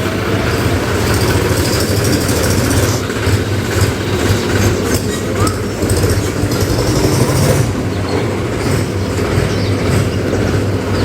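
A tractor engine runs on a family farm, a loud, steady, close rumbling drone that continues without a break, with no talking.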